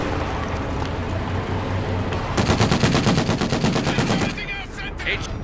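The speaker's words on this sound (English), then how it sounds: "MG firing on us!" A machine gun fires in Company of Heroes 2 during a Stalingrad battle: a rapid, evenly spaced burst of about two seconds stands out over a low rumble of combat, and voices speak briefly afterward.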